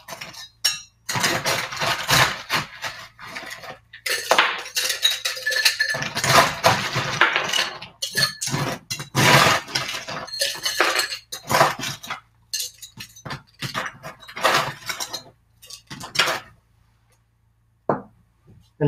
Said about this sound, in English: and add some ice to our glass.